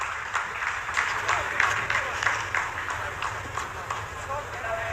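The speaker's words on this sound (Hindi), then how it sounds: "आप इस तालियों के गड़गड़ाहट को सुन सकते हैं जो कि सेकेंड हाइब्रिड फेज के कंप्लीट होने के बाद" Sustained applause from scientists in ISRO mission control during the Chandrayaan-3 landing, a dense patter of many hands clapping in a room, continuous throughout, with a voice speaking over it.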